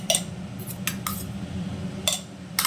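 Batter for egg mughlai is mixed in a bowl, a utensil clinking against the sides in a handful of irregular taps over a low background hum.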